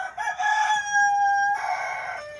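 A rooster crows close by, one long, loud, strained call that rises and holds before trailing off.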